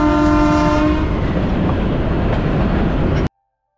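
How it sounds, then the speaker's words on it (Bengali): Kalka Shimla toy train running toward a tunnel, a loud, steady rumble of the railway cars with a sustained horn tone in the first second, continuing until cutting off abruptly. "এই টানেল দিয়েই ট্রেনটা যাবে"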